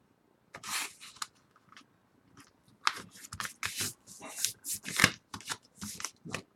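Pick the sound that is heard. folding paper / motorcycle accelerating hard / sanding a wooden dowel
folding paper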